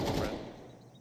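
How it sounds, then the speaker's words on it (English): Gunfire in the video game Counter-Strike 2 cracks in a quick, fairly loud burst, then trails off into a fading echo within a second. "What is he shooting at?"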